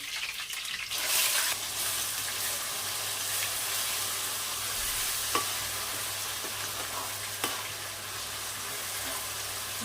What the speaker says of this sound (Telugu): పచ్చివాసన పోయేంత వరకు వేయించుకున్నాం